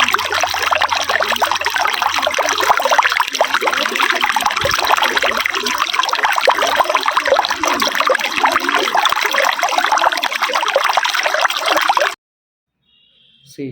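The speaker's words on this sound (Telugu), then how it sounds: "ఇది చిన్న వాటర్ ఫాల్సే. ఒక చిన్న వాటర్ ఫాల్స్." Small waterfall in the Ananthagiri Hills pouring steadily, a dense, continuous rushing splash held close and loud for about twelve seconds before cutting to near silence.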